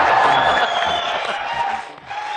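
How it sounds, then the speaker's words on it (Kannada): Audience applause and cheering at a Kannada comedy talk show studio as veteran stars enter, a dense steady wash of clapping and crowd noise that dips briefly near the end. "ಬರ್ಲಿ ಜೋರಾದ ಚಪ್ಪಾಳೆ ಚಪ್ಪಾಳೆ"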